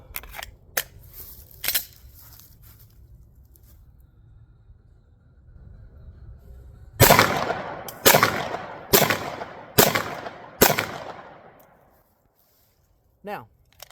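A Glock 17 Gen5 pistol is fired at a target. Five sharp, loud shots come in a quick, even string after some soft handling clicks, then a brief silence.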